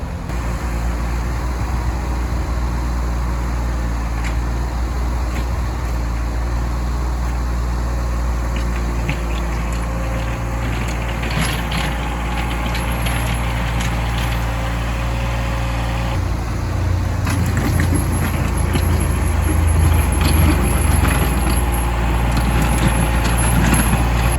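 A John Deere 2210 compact tractor pushing snow over gravel with a front-mounted snow plow, its engine droning steadily and loudly nearby, then rising in load and scraping noise partway through.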